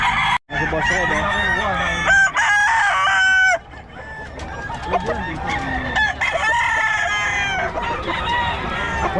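Roosters crow loudly and repeatedly among clucking chickens offered for sale at a poultry market in Bocaue, with dense overlapping bird calls filling the scene and faint voices in the background.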